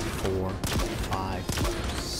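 A Hydra rocket launcher in Halo Infinite fires rockets in a quick series of sharp launch bursts with mechanical clatter. Someone talks over the shots throughout.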